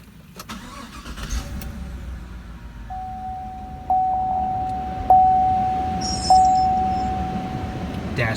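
A 2016 Chevy Silverado truck starting up inside the cab: a cranking rumble settles into a low idle, while a steady electronic tone and a few sharp chimes sound over the engine.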